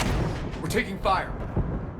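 Booming anti-aircraft gun bursts from Geth guns beside a jamming tower in Mass Effect Legendary Edition, repeated blasts rumbling over a dense low roar while voices speak.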